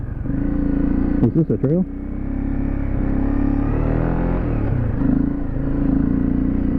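A 2016 Honda CRF 250L trail motorcycle ridden off-road, its engine droning steadily and close with a brief rev-like warble early on, while a rider speaks over the motor.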